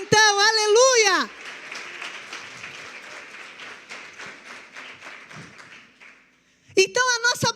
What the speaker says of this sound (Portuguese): Aplauda Ele de verdade então, aleluia.